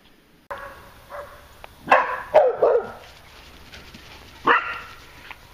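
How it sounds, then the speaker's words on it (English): A neighborhood dog barks outdoors in a few sharp, separate bursts, several quick woofs clustered near the middle and one more a little later, at moderate distance over quiet background. "Other dogs bark in the neighborhood,"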